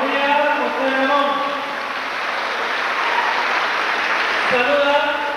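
Applause at a graduation ceremony for a business administration graduate, a steady broadband wash of clapping running the whole time with tonal music or voices layered over it.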